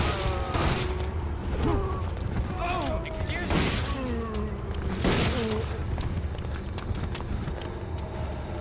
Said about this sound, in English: Alright, I'm gonna use some Magnum ammo here.